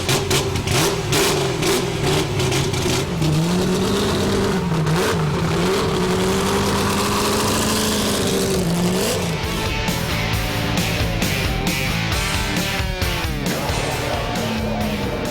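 A touring race car engine runs loudly and continuously at close range, with revs rising and falling and a throaty, rough tone throughout.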